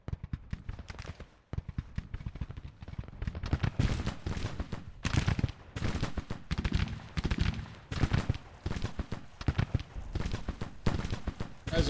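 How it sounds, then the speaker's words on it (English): Union guns fire in a Civil War battle in Grand Tactician, with repeated muffled booms and crackling volleys in an irregular rhythm. The firing sounds somewhat distant and is quieter at first, then grows denser and more steady. "So Union guns trying to break through the fortifications around Pickett's brigade."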